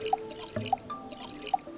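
A character drinks water from a bottle in the survival game Stranded Deep, with a few soft, wet drip-like gulps and sips spaced irregularly against a quiet background.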